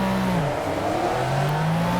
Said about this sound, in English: if you press the accelerator, the engine shakes the car